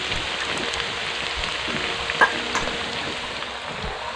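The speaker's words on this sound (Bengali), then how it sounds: "এখন পেঁয়াজটা হালকা একটু ভেজে নেব" Onion paste fries with spices in oil during village cooking, giving a close, steady sizzle with soft stirring and one brief sharp clink midway; no voices.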